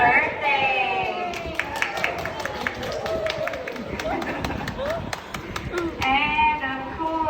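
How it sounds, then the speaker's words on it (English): Crowd at a graduation gathering on the San Antonio Riverwalk shouting a birthday greeting in unison, then cheering and clapping, a dense lively mass of voices and hand claps throughout. "y'all yell happy birthday, followed by a round of applause"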